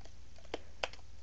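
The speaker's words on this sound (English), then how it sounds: "Just sort of typing on autopilot." A few quiet, sparse keystrokes on a computer keyboard while working in a Linux terminal on Ubuntu, with two sharper clicks standing out against a soft background hiss.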